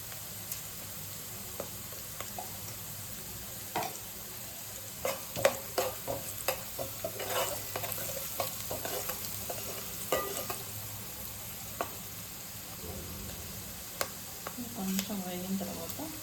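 Turmeric and spices fry and get stirred in a pan before a paste of coconut, tomato, coriander and green chilli goes in, giving a steady soft sizzle with scattered scraping clicks from stirring.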